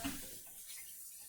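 Water runs from a kitchen tap during fruit cake baking, a brief soft gush at the start that settles into a steady, faint hiss, heard alone.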